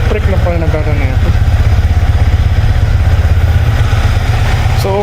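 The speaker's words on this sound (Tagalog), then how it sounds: "Kailangan na pala nating paandarin yung motor." A Yamaha MT15 v2 motorcycle engine idles loud and close, its steady, even low-pitched putter running without a break throughout.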